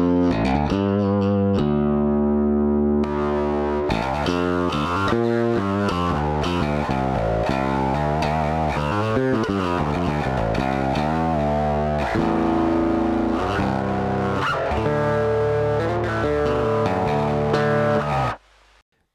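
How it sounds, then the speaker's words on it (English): A bass guitar pushed through a distortion pedal with lots of preamp gain, gritty and saturated, playing a steady run of notes for about eighteen seconds before cutting off abruptly. "engage the distortion for you"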